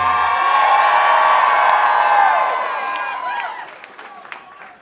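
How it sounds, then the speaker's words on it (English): A concert crowd at Piere's Entertainment Center in Fort Wayne, Indiana, claps, cheers and whoops loudly, the applause holding steady before fading out toward the end. "So a round of applause for Pierre's."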